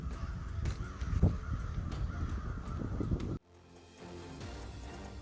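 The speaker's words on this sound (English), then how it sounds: "Just a few crows." A few crows cawing outdoors, with repeated harsh calls over a rough, rumbling background that suddenly drops to a quieter hiss.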